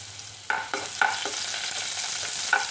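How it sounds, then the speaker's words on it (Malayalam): Mustard seeds and chopped onion in hot oil for Kerala sambar tempering crackle and pop a few times over a continuous close sizzle, with occasional stirring scrapes. "കടുക് പൊട്ടി വന്നിട്ടുണ്ട്."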